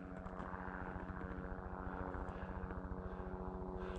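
A helicopter's rotor thumps in a fast, steady rhythm under a droning engine hum, continuous and fairly close throughout, at a landing pad beside the Robson Pass backcountry campsite in Jasper.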